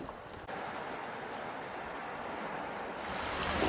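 Surf washing onto Sukaraja beach in Bandar Lampung, a steady broadband wash of waves with some wind noise, swelling slightly louder toward the end, with no voices.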